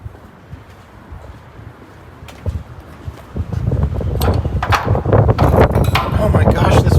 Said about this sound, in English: Oh my gosh, this wind! Why has it got to be so windy?